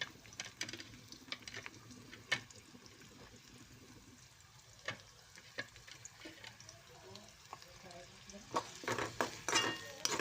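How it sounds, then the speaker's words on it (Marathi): Onion browning in a pan for homemade Manchurian, a soft steady sizzle with scattered stirring clicks and scrapes, fairly quiet throughout and louder spatula activity near the end. "छानपैकी कांदा खरपूस भाजून घ्यायचा"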